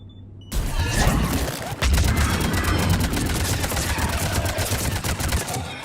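A sustained firefight in the sci-fi shooter Mass Effect 3, with dense, loud automatic gunfire and heavy impacts rattling almost continuously after a brief quiet opening.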